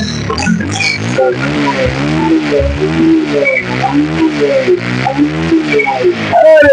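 A Bajaj Pulsar 150cc motorcycle at a bike shop revs close by, its engine note rising and falling in repeated throttle swells throughout, loud and without talk.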